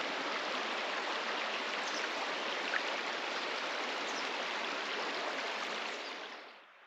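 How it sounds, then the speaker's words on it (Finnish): A river in Urho Kekkonen National Park, Lapland, rushes steadily past in a dense, even wash of flowing water that holds constant before fading out at the end. "Joki menee tossa mukavan näköisenä"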